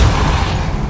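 The Depulso spell is cast in the video game Hogwarts Legacy, a loud, brief whooshing blast with deep boom and broad noise lasting about a second.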